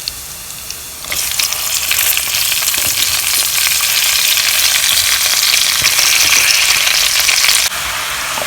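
Grated garlic fries in a pan with a steady, loud sizzle that starts abruptly and holds for several seconds before easing back.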